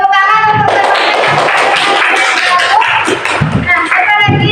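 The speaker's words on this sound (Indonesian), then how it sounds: "Tepuk tangan untuk teman-teman." A high school classroom claps for fellow students, a short burst of hand clapping mixed with loud talking voices throughout.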